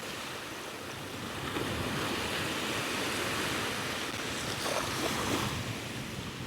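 Surf rolling onto a remote beach on the Isle of Harris in the Outer Hebrides, a continuous wash of breaking waves with wind noise on the microphone, steady and moderately loud with no voices.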